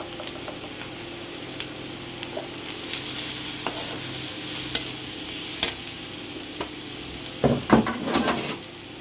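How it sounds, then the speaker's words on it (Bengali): Ginger, garlic and onion frying in a pan over a wood-fired clay stove, with turmeric powder being stirred in: a steady close sizzle under scattered scraping stirs, ending in a burst of louder clattering strokes. "আদা রসুনটা পেঁয়াজের সাথে একটু ভেজে নিয়েছি এখন আমি অল্প করে হলুদের গুঁড়া দিয়ে দিব"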